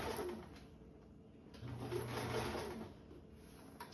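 Sewing machine basting the binding on a convertible duffle bag, a quiet steady mechanical whir that rises to a slightly louder run midway, then slows, with a short clunk near the end.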